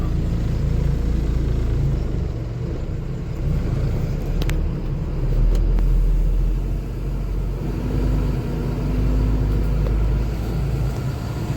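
A car drives along the Nagpur–Mumbai Expressway toward Nagpur, a steady low road rumble and engine drone filling the interior with no talking.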